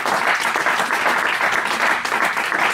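A church congregation applauds during a revival evening, a dense, loud, even wash of many hands clapping that carries on without a break.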